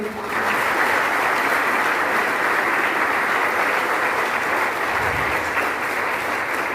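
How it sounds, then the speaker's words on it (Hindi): Loud, sustained audience applause fills the hall at a success-story event in Varanasi, a dense steady wash of many hands clapping that holds its level throughout without talk. "एक बार जोरदार तालियां धर्मेंद्र मान सर के लिए"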